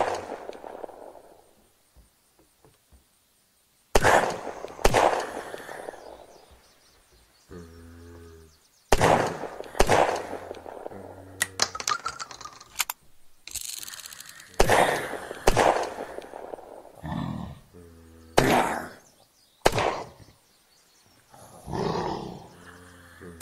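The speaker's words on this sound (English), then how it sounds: "Next, I will be demonstrating the damage of each pistol against unarmored and armored targets." Pistol shots ring out in the Unturned video game, a series of sharp, loud single cracks in irregular clusters with short gaps between them, after a quiet opening.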